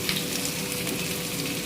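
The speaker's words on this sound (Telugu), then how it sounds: "అవి కొంచెం ఫ్రై అయినాక ఉల్లిపాయలు కూడా వేసుకొని" Onions frying in a pan for a dried fish curry, a steady close sizzle with light crackling throughout, no voices.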